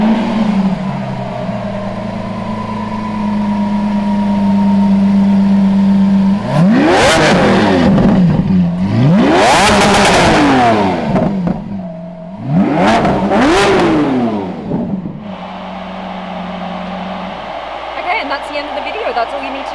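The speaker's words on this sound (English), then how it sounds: "gotta hear what this sounds like first of all." Lamborghini Countach engine revving close by, a steady idle broken by several sharp, loud rising-and-falling revs in quick succession, then settling back to a rumbling idle.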